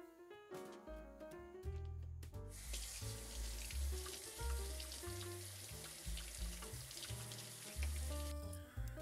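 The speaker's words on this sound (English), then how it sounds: "Simply empty the puck and rinse off all components" Espresso machine parts from a 9Barista brewer are rinsed under a running tap, with a steady gush of water punctuated by clinks and knocks of metal components, close and fairly quiet.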